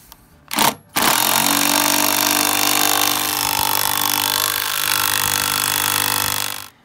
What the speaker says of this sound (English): An impact driver is going to make this a lot easier to go in.